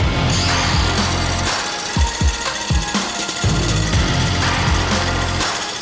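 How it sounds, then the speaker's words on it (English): An angle grinder clamped to a lathe with a plastic clamp runs continuously with a loud, rough mechanical whir, punctuated by several sharp bursts and dips in the noise. The grinding comes from close by, and no one speaks. "It's a plastic clamp, an angle grinder, a lathe."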